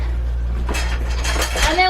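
Metal feed dishes clatter and rattle as a goat's feed bowl is tipped out, a few quick knocks and scrapes over a steady low hum.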